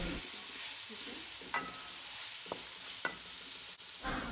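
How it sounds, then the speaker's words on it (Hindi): Peas and cabbage fry in a pan for chicken macaroni, a steady hiss of sizzling with a few sharp stirring clicks and scrapes, fairly close and with no talking. "मटर ऐड करने के बाद हम इसके अंदर बंद गोभी ऐड करेंगे, एंड उसको भी अच्छे से हम लोग फ्राई कर लेंगे"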